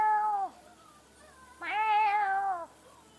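A fluffy pet cat meows twice up close, a short call followed after a pause by a longer, louder drawn-out meow.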